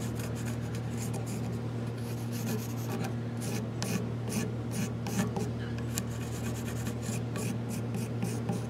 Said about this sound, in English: Sketch it a few times till I start getting a shape that I sort of like.